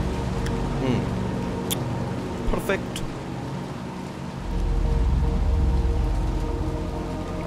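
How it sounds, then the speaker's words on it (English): Steady rain falling in the Little Nightmares 2 video game, a continuous hiss with a heavier low rumble swelling midway, under a voice. "Look, this rain looks fucking beautiful."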